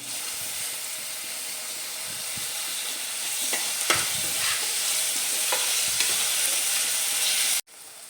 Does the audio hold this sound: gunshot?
no